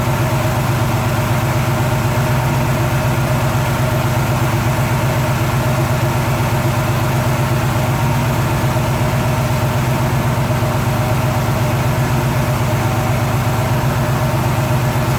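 A Chevy 350 V8 idles steadily while its lifters are adjusted with the engine running, a loud, close, unbroken rumble that holds an even throb throughout.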